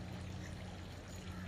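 Water pouring steadily down a small waterfall in a rooftop garden, a continuous even splashing rush heard close up without voices.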